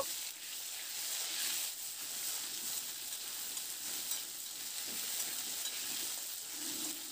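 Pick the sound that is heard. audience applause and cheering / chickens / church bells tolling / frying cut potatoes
frying cut potatoes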